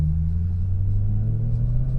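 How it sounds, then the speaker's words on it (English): A straight-piped Maserati with an Italian V8 gives a deep, steady rumbling drone at close range, holding a low throbbing tone for a couple of seconds with no voices. "The engine sounds, oh, so good."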